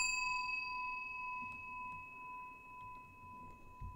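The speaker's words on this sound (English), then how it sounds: "Okay, the bell. There's a bell here." A bell rung in Suite 776 rings out with a clear sustained metallic tone that lingers across the whole stretch, with a few soft knocks and thumps beneath it.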